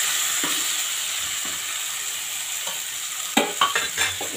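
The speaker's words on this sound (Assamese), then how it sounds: "এইফালে মোৰ চিকেনখিনি ভাজি হৈ গ'ল" Chicken frying in a pan for palak chicken gives a loud, steady close-up sizzle, with sharper clatters of stirring toward the end.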